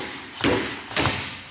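Two sharp metallic knocks about half a second apart as a retaining pin is driven out of a Triumph Spitfire filler cap, each strike close and distinct with a short ring after it.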